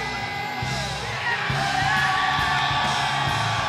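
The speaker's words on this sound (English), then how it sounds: "listen to the crowd explode for the ROH World Tag Team Champions" A wrestling arena crowd yells and cheers loudly in a dense, sustained roar, swelling slightly as it goes, with some voices carrying over the mass.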